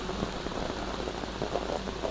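Steady monsoon rain patters continuously in Wayanad, a dense even hiss of drops with no voices or other sounds standing out.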